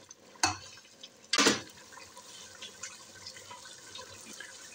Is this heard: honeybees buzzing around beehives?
no